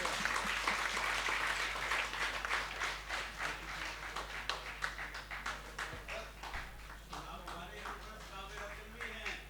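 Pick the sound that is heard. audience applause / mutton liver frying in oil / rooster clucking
audience applause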